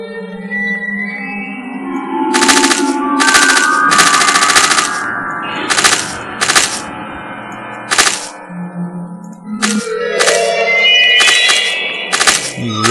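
Rapid bursts of gunfire from the Cyberia 2 video game, loud clusters of sharp shots firing in repeated volleys over a synthesized music bed, alone without talk.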